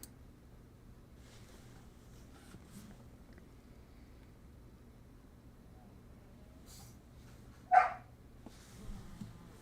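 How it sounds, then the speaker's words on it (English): A single dog bark rings out indoors, sharp but moderately distant, followed by a short softer sound against a quiet background hum. "What you barking about?"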